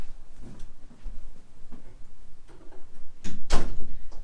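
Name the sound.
door being closed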